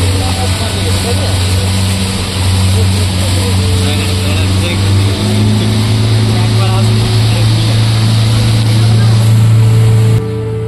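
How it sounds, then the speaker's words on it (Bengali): A speedboat engine runs steadily on the Maithon Dam reservoir, giving a loud, continuous motor drone with wind and water noise, and voices talk over it throughout. "বন্ধুরা আমাদের স্পিড বোট চলতে শুরু করে দিয়েছে।"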